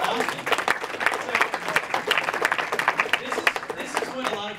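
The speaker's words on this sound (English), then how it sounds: "So give her a round of applause." An audience at a seminar for CEOs claps in sustained, dense applause that fills the room, with a voice speaking over it.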